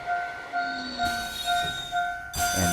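Trains running in the A-Train city-building game, a steady rolling rumble with sustained tonal hums and a brighter burst near the end, moderately loud and continuous with a brief spoken word at the start.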